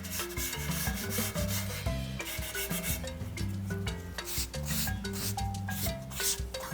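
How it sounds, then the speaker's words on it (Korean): Sandpaper rubs steadily across the outer surface of a ceramic plate from a pottery kit, making continuous close scraping strokes with no voices. "이렇게 사포로 밀면 깨끗하게 정리가 되기 때문에 이 사포로 겉표면을 깨끗하게 정리를 해주세요"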